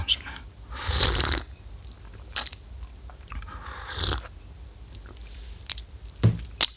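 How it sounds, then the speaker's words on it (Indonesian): A drink is slurped a few times before a radio review, with short, fairly loud sucking bursts separated by quiet gaps. "sebelum kita review, kita seruput dulu seperti biasa"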